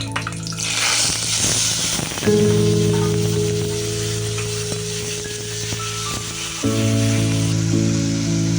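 Onion and tomato masala hits hot oil with a loud burst of sizzling that settles into a steady, close frying hiss, with a sustained humming tone running underneath.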